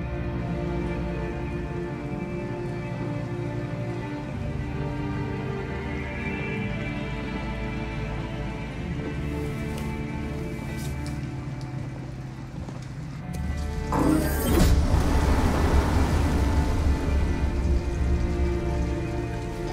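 Heavy rain pours steadily in a Detroit: Become Human night scene, a constant wash of drops on surfaces that swells louder and nearer partway through, with a faint low music bed beneath.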